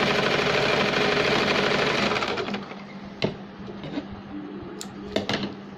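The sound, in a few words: sewing machine stitching folded hem of baby capri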